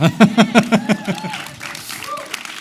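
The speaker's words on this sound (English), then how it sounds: "That deserves some applause" Brief rhythmic clapping, several loud regular claps from a small group in a studio discussion of the F1 movie with John Mayer, fading out after about a second and a half into quieter room sound.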